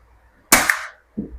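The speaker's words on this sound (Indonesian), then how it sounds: "Kita coba tembakan kelima." A single sharp air gun shot from an Immortal Flash Gen 2 firing a Samyang pellet cracks loudly and close, followed by a short dull impact a moment later.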